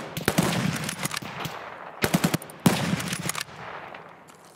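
Rapid automatic gunfire, including a P90, in a video game firefight against scavs on the Customs map, loud close bursts in quick succession with short gaps.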